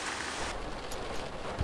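Steady rain falls in the OMSI 2 bus simulator on a wet day, a continuous broadband hiss without breaks, fairly faint and with no voices.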